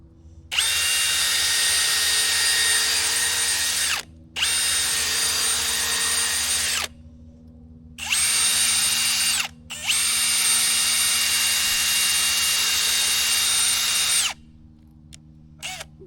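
A power drill bores into a dry tree stump in four long, loud continuous runs separated by short pauses, with a steady low hum underneath throughout.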